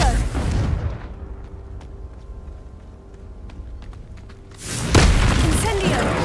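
Confringo blasts in Hogwarts Legacy produce a loud explosive boom at the start and another heavy rumbling blast near the end, with a quieter stretch of faint ticking between them.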